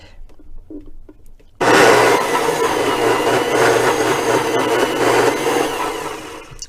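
A blender blending hot water for a spirulina coconut latte starts abruptly and runs with a loud, steady whirring roar for several seconds, close by, after a few quiet background noises.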